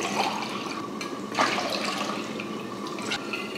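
Water pours steadily onto rice in a pot for a few seconds, a continuous splashing rush with a brief louder gush partway through.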